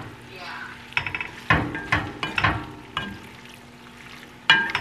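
Pasta sauce with vegetables cooking in a pan: a low sizzle broken by several stirring scrapes and utensil knocks against the pan, close and moderately loud.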